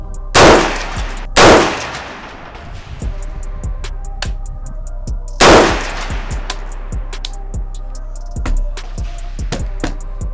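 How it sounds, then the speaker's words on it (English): Handgun shots at an outdoor range from a Springfield Hellcat or Sig P365: three loud, sharp reports spaced apart with ringing decay, plus a fainter pop near the end. "Three shots."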